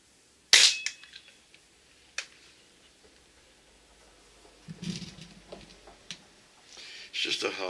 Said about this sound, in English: we'll take a couple of shots here with our little pellet gun, our 177